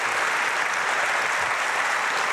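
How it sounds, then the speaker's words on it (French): Steady, dense audience applause at a Paris chef event, a continuous wash of clapping from a crowd with no talk over it. "On les applaudit."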